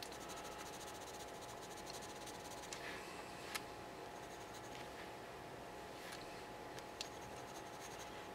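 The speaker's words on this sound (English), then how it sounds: "So I'm gonna put the pencil down for a bit." A pencil scratches softly across sketching paper in a quiet room, faint steady strokes with a few sharper ticks of the lead.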